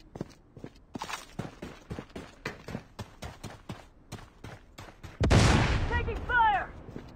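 Gunfire rings out in the Blood Strike shooter game, a loud burst of shots and echoing blasts near the end, preceded by a steady run of rhythmic footsteps.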